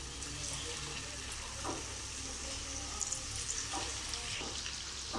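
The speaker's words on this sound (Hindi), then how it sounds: "चलिए इसे हम फ्राई कर लेंगे पहले" Gola kebabs frying in hot oil, giving a steady, fairly quiet sizzle that runs throughout with a few faint scrapes and taps, no talking.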